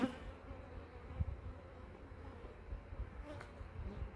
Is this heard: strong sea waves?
no